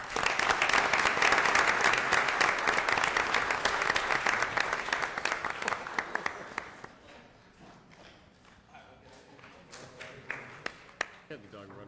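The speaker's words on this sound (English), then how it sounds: "Let's give Tony and ICE another round of applause" Audience applause at a city council meeting in Elmhurst, dense clapping for roughly seven seconds that thins out into scattered claps and quiet room noise.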